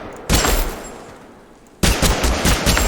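Rapid assault-rifle fire from a gun dealing 34 damage per shot in the video game TABG: a long, loud automatic burst that fades away, then a second sustained volley near the end, with no talking.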